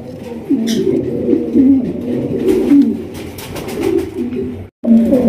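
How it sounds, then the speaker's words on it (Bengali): A large Baghdadi pigeon coos nearby in a loud, throaty, rolling run of repeated calls, with one brief pause near the end before the cooing resumes. "এখানে রয়েছে একটা বিশাল সাইজের একটা বাগদাদি কবুতর"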